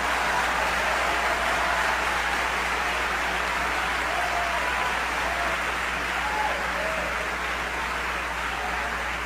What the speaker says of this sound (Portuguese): Aplaude ao Senhor, aplaude ao Senhor.